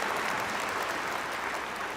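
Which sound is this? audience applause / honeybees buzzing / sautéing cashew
audience applause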